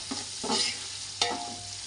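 Tomato being sautéed in a pan for a roasted-coconut mackerel curry: a steady soft sizzle with three short scraping stir strokes, close and alone.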